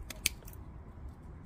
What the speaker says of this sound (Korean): 그래서 혹시나 하고 제가 뿌리를 싹 한번 잘라 보겠습니다.